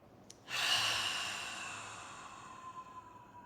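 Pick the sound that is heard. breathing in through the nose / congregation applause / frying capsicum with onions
breathing in through the nose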